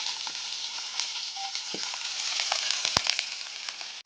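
Onions hit hot oil in a pan while cooking a pork dish, a steady close sizzle with scattered crackles and a single sharp clink from a utensil.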